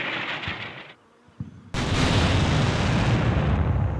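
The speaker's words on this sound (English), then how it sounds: "American artillery starts to zero in." American artillery fire in a Cold War battle video game: a low rumble of distant fire drops briefly to near silence, then a heavy, sustained roar of shelling and explosions swells loud and continuous without any talk.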